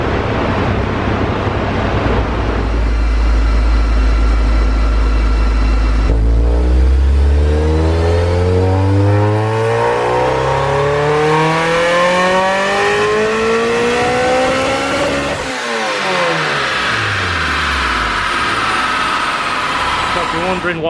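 A Honda S2000 engine revs hard on a dyno, loud and close, sweeping up through the rev range repeatedly, with a sudden stumble and break-up from the spark blowing out before it climbs again.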